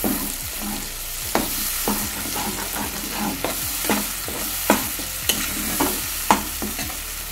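Tomato paste frying and being stirred in a pan for a Bengali cabbage dish, with a steady sizzle under repeated scraping strokes of a spoon against the pan, close and continuous.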